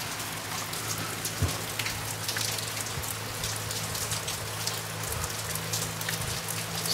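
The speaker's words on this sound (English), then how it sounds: "Who loves the sound of rain?" Steady rain falls on outdoor surfaces and gutters, a dense, even hiss of countless drops that continues unbroken and fairly close, with no voices.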